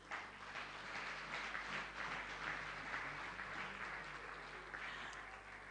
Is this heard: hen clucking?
no